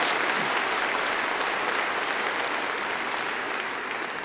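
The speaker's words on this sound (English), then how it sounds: "Let's give our governor another round of applause for such inspiring words." Dense, sustained applause from a large audience at a university spring commencement ceremony, a steady wash of clapping that fills the whole stretch and eases slightly toward the end.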